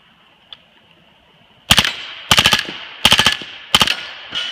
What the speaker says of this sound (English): It's on a 9mm Yankee Hill conversion kit on a full auto lower. So we also are running 9mm subsonic, so it's going to be nice and quiet.